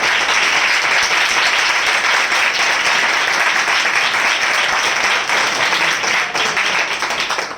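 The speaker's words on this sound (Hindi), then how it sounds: "जोरदार तालियां।" Sustained, loud applause from a large gathering at a spiritual enthusiasm assembly, a thick wash of many hands clapping that holds steady throughout and eases slightly at the very end.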